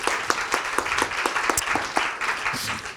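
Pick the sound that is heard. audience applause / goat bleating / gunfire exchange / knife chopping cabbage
audience applause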